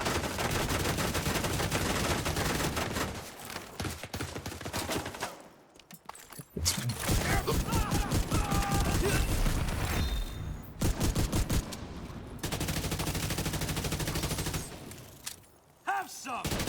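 Sustained automatic gunfire from a video game firefight rattles in long, loud bursts broken by a few short pauses, with a player talking over the shooting.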